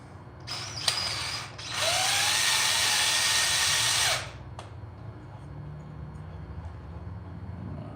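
A power drill whirs in a few short bursts, then runs steadily for a couple of seconds nearby before stopping, leaving quiet room noise.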